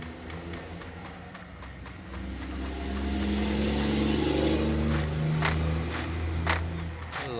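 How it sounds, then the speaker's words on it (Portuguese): A truck in a zombie video game rumbles past, its engine growing louder and heavier from about the middle onward and then holding close and loud. "Se vai um caminhão."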